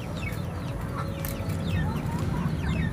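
Several chickens cluck and murmur continuously against a low, steady background hum, with occasional higher squawks from the flock.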